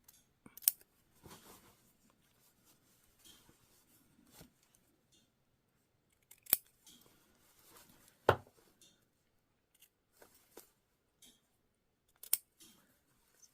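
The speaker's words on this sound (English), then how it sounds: "I'm just going to snip into my seam allowance" Scissors snipping into a fabric seam allowance while sewing a New Look 6603 garment: a handful of sharp, separate close-up snips spaced out over quiet stretches, with faint rubbing of cloth in between.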